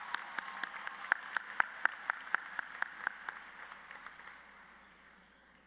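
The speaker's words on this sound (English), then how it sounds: "Give yourselves a round of applause" Graduates clap at a university commencement: a short run of distinct, fairly sparse claps, a dozen or so sharp strikes at a steady pace, moderately close, thinning out and fading after about four seconds.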